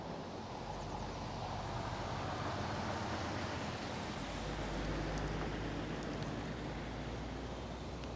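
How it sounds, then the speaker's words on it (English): Road traffic noise carrying from behind a canal, a constant broadband rumble and wash of passing vehicles at moderate distance, with no talk over it. "you don't even hear the traffic really."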